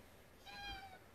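A cat in a home kitchen gives a single short, faint meow, a brief tonal cry standing alone against quiet room background.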